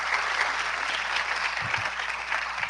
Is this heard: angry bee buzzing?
no